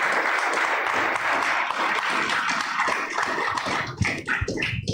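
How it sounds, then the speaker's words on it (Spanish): A church congregation applauds in a sustained, broad wash of clapping that thins toward the end, giving way to a few scattered claps and shuffling. "Dele un aplauso al Señor, honre su nombre, exalte su grandeza."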